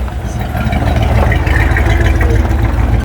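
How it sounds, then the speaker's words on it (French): An American car's V8 engine idles at a car meet with a loud, steady, deep rumble that throbs evenly and continuously throughout. "J'adore le bruit des Américaines. Petit moteur V8 et tout, là."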